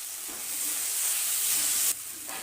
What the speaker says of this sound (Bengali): এরপর দিয়ে দেব টমেটো কুচি